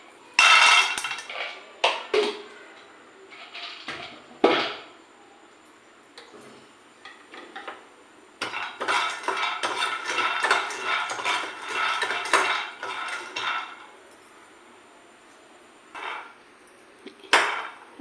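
Peanuts dry roasting in a pan for a bitter gourd spice powder, with repeated clinking and scraping of a utensil against the metal in irregular bursts, close and fairly loud with quiet gaps between.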